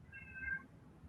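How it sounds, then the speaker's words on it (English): A cat gives one faint, short meow in a quiet indoor room, heard alone with no talking. "cat is here."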